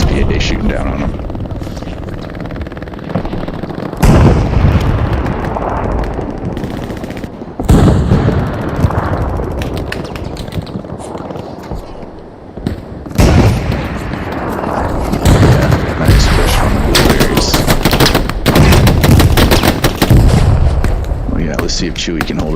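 Artillery from a self-propelled gun pounds away amid near and distant gunfire and machine-gun bursts in the World War II shooter Hell Let Loose, loud and continuous, with heavy booms and voices talking over the battle.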